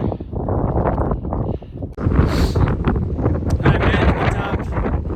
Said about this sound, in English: Definitely windier up here.